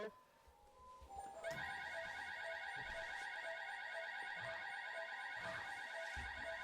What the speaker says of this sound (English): it seems some kind of alarm is set off.